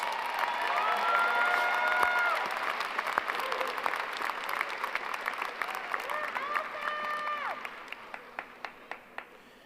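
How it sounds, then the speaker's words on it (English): Graduation audience at a high school ceremony applauding: a dense wave of clapping with cheers and crowd voices, gradually thinning into scattered individual claps toward the end. "Let's give these graduates a round of applause."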